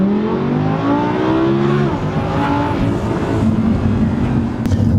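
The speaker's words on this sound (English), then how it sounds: "let's try and launch control, full brake, green light" A turbocharged Audi R8 V10 Plus held on full brake in launch control, its engine roaring loud and steady close by, pitch climbing and shifting as it builds revs, with no voices over it.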